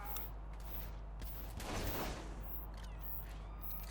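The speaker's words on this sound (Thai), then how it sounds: "แหมปืนกระสุนระเบิดนี่มันแจ่มจริง ๆ" A muffled burst of explosive-round gunfire in Saints Row: The Third Remastered, with a booming blast in the middle, set against a steady low hum and faint mechanical clicks.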